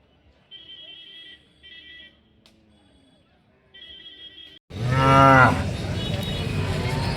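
At a bull market in Akki Alur, several short electronic beeps sound first, then a bull lets out one loud, close moo over busy crowd noise.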